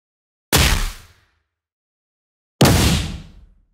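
Two aggressive, distorted cinematic strike hits, each a loud, sharp crack with a booming low end that decays over about half a second, separated by a couple of seconds of silence.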